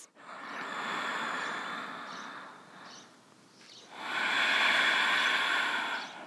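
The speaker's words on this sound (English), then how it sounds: "2 more breaths." Slow, deep breaths during a beginner vinyasa yoga session in a garden: a long airy inhale, a quieter pause, then a fuller, louder exhale, close up and alone over faint outdoor insect noise.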